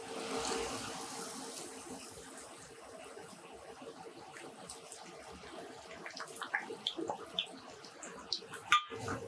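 Venna undalu dough balls dropped one by one into hot oil and frying, a steady soft sizzle and bubbling with small clinks toward the end, no talk.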